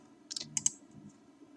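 A few quick clicks on a computer keyboard as a formula is entered in a spreadsheet, close and fairly quiet over a low background hum.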